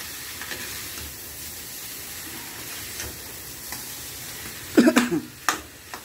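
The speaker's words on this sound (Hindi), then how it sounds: "ये डाल के खूब चला लो, फिर हरी रंग में पड़ जाएगी, इसमें बहुत बढ़िया बनेगा देसी घी का" Potatoes are stirred as they fry in desi ghee. A soft steady sizzle runs underneath, then several loud scraping stirs of a spoon against the pan come in quick succession near the end.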